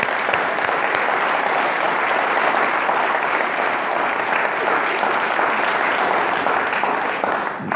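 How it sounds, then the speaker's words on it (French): A lecture audience applauds steadily, a dense wash of clapping from many hands holding at an even level throughout. "je crois qu'on va tous leur applaudir"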